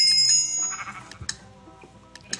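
A sheep in the Minecraft Mineplex arcade game gives a short, bright bleat at the start, followed by scattered soft game clicks and taps.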